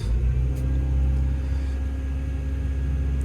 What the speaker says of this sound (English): Change the work mode to dig and rev it up.